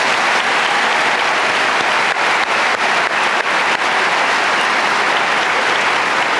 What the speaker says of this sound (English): Let's give Ashley another well-deserved round of applause.